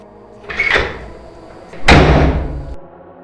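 A door suddenly slams shut, with a lighter knock or rattle first, then one heavy, loud bang that rings out for about a second before fading, close by and with no one speaking.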